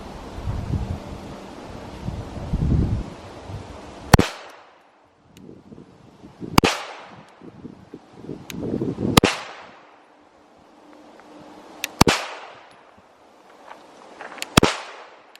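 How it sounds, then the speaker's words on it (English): Five sharp, loud Glock pistol shots ring out one by one at an outdoor range, spaced a few seconds apart, each with a quick decaying echo over light wind noise. "I'm gonna do 5 out of the Glock now so we can compare."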